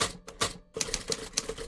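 Rapid typewriter keystrokes in the video game Clap Clap Nightmare Files, a burst of sharp clacks, a short pause, then a quicker run of close, crisp taps.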